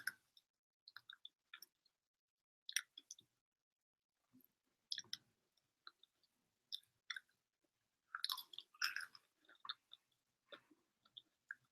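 Wet, sticky chewing on Buffalo Wild Wings chicken wings, close and intimate, coming in irregular smacking and clicking bursts with short quiet gaps between bites and no talking.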